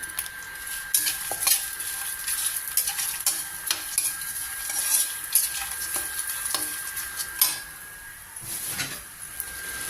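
Roasted peanuts scraped and stirred around a metal pan, with a steady rustling hiss and occasional clinks of a spoon, close and continuous.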